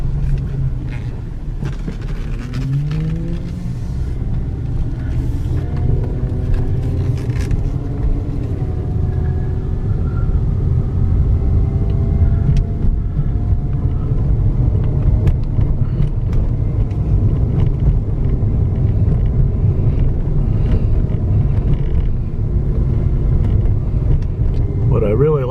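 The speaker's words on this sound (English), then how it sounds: "we'll take a drive around the neighborhood here, get off this gravel driveway" A 1998 Mercedes-Benz SL 500 rumbles at close range as it drives off a gravel driveway, a steady low engine and road roar lasting throughout while someone talks over it.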